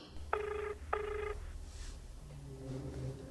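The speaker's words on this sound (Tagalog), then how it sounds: "Agri-ring ti cellphone na." A cellphone rings with two evenly spaced electronic trills, followed by a softer tone, quiet and slightly distant over a low hum.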